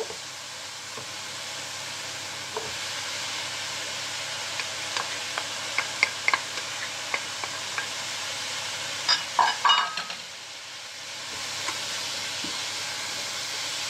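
Bacon lardons are tipped into a pan of frying leeks, bringing a low, steady sizzle with scattered spoon taps and scraping from stirring, close and quiet, with a cluster of sharper clatters midway.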